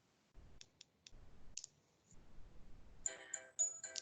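A few sharp, close computer mouse clicks sound on a button in Canva, isolated taps separated by short pauses and quiet room noise.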